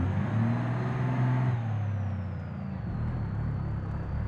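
A heavy truck engine drones loudly in BeamNG.drive, with a steady rumbling note that drops partway through as the gears shift, followed by a lower, continuing hum.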